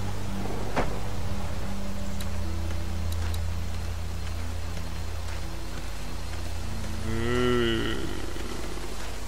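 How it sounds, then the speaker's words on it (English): A zombie cow in The Walking Dead video game lets out a long, droning, distorted moo over steady rain-like ambience, with a few sharp clicks and a warbling cry near the end. "It's a zombie cow."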